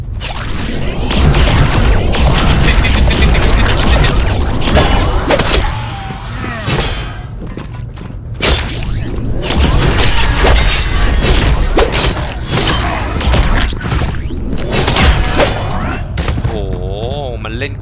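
Rapid gunfire in the dark action game Hellpoint, dense bursts of booming shots and heavy thuds that keep going, with someone talking excitedly over the noise.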